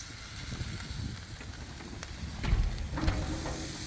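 Pork chop sizzling on a Blackstone griddle, a steady hiss of frying fat with a couple of louder spits and pops, close and continuous.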